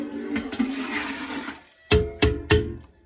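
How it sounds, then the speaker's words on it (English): Unseasoned bone broth poured into a pot beside a wood stove: a steady, rushing stream of liquid for about a second and a half, then quiet, followed by three sharp, close clunks in quick succession. No one speaks. "now I'm gonna pour this unseasoned bone broth"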